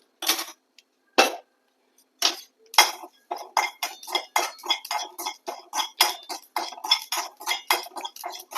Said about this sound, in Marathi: आता हे तीळ आपले मस्त तडतडले